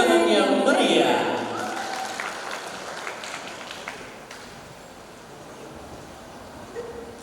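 Audience applause for finalists at a language ambassador pageant final in Bangka Belitung, loud at first and then fading into a lower, scattered patter with crowd noise.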